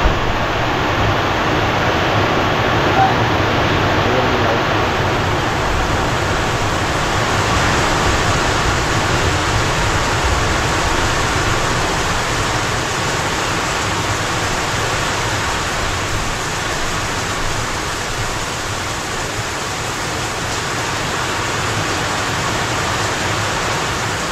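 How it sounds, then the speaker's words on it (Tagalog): Heavy rain pours down steadily as a dense, loud, unbroken hiss that holds throughout with no voices. "Lumakas na naman ang ulan."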